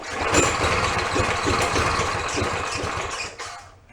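A lawn mower engine that won't start sputters and churns loudly up close, an uneven chugging burst lasting a few seconds before dying away.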